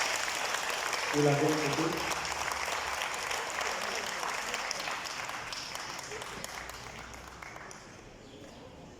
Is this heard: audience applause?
yes